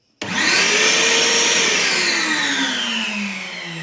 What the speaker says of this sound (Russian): Так, в розетку я включил пылесос.